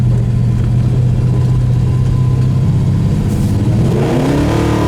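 A 1970 Dodge Dart Swinger with a 340 Mopar V8 engine rumbles steadily, then revs up with rising pitch near the end, loud and close with no talking.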